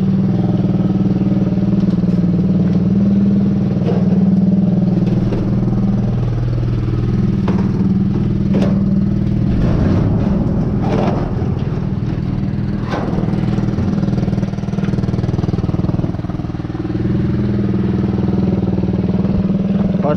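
An old wrecked quad bike left outdoors for years, its engine running with a steady rough idle and a few revs, loud and near throughout, no talk.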